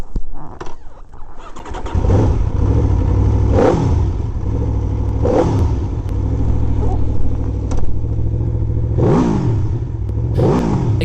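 Aprilia RSV4 motorcycle being ridden, its loud, deep Italian V4 exhaust note rising in repeated revving surges as it accelerates through the gears, with a short rougher idle at the start.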